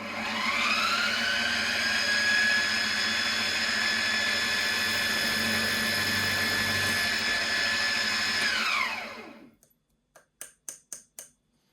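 A carbide drill bores into the metal of an FMA supersonic tactical revolver during an overhaul, a loud, steady whining grind for about nine seconds that winds down, followed by a few sharp clicking taps.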